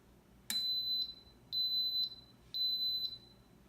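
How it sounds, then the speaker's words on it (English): Three pairs of high electronic beeps from an Instant Pot pressure cooker switching to sauté mode, each steady tone lasting about half a second, evenly spaced in a quiet room. "wait for the beep"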